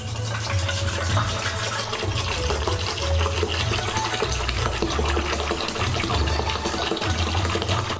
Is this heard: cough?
no